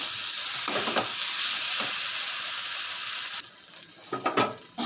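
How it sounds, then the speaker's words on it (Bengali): Potatoes stir-fried in a spice masala, a close steady sizzle with bursts of stirring and pan scraping, growing choppier toward the end. "মশলাটা কষানো হলে আলুটা আমি দিয়ে তো আলুটাকে দিয়ে কষিয়ে নেব ভালো করে"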